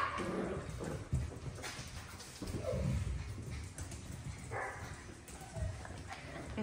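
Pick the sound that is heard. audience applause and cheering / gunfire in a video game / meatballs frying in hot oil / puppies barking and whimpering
puppies barking and whimpering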